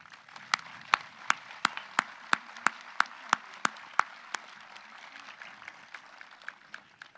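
A graduation ceremony audience at a high school commencement gives a round of applause for the teachers, heard as a string of sharp, regular claps fairly near, fading into softer scattered clapping.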